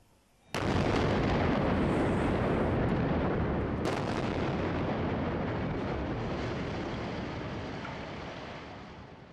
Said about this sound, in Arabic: قصف برج الجلاء